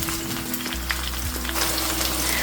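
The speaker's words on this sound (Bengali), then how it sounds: "হালকা একটু ভেজে নিব।" Chopped onions frying lightly in a pan, a steady soft sizzle with faint crackles running throughout, moderately close, with no talking.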